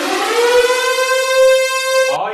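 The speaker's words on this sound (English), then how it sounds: "Sound the anniversary siren!" A loud, steady siren wail sounds alone, holding a constant tone before cutting off abruptly.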